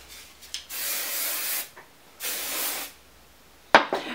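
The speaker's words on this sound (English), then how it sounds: "I'm going to spray some more hairspray" Two sustained bursts of aerosol hairspray hissing close by, each lasting about a second, followed by a short clatter at the end.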